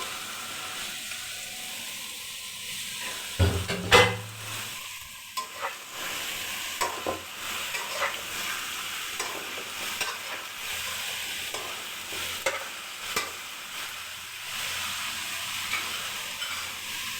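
Chopped eggplant hits a hot pan with a sharp burst, then fries in a continuous sizzle with repeated stirring scrapes and clinks, close up and without talk.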